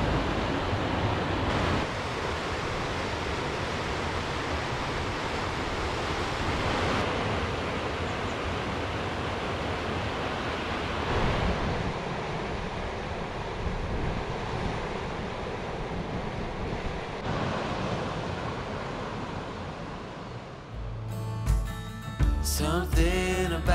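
Steady, full-bodied roar of falling water rushing without pause, loud and close, before a brief burst of music cuts in at the end.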